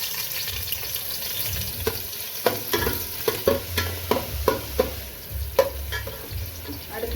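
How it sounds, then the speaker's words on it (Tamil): Chopped onion dropped into hot oil for chicken fried rice, frying with a steady close sizzle while a spoon stirs and scrapes the pan in irregular clicks. "இப்போ எண்ணெய் சூடாயிடுச்சு, நம்ம வெங்காயம் சேர்த்துக்கிறோம்."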